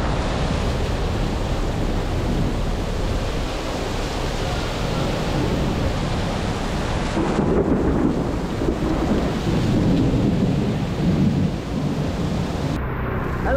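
Steady rain pours continuously and close by, with low rumbles of thunder rolling through the background, no voices present.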